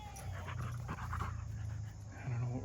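Two dogs panting and whimpering close by, a steady run of quick, breathy panting with short whiny whimpers mixed in. No clear speech.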